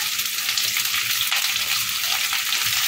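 Onions stir-fried over a high flame for egg chilli hiss in a loud, steady sizzle, with occasional scrapes of the spatula against the pan cutting through it.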